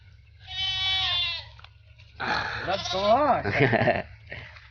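Goats bleat in wavering, nasal calls on a farm as a release door opens, one long cry early and then several overlapping bleats, over a low rumbling background.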